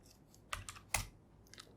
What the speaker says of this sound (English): Here if I type telnet smtp.gmail.com and port 25.